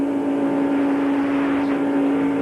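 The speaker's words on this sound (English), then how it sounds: "The engine stays the same sound all the way through the corner, never backing off anything." A stock car engine at full speed during a 1997 ARCA race at Talladega Superspeedway holds a loud, steady, unchanging drone without backing off.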